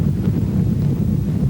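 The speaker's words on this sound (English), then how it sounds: "it's windy." Low, rumbling wind buffeting the microphone, steady and close, with no voices.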